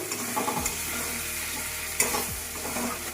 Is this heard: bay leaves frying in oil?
yes